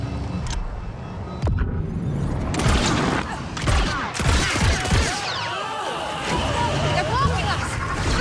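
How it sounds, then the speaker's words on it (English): Rapid gunfire from a speeder bike in the video game Star Wars Outlaws: dense, loud bursts of shots mixed with crashes and booms, continuing steadily for several seconds. "Let's do a bit of shooting."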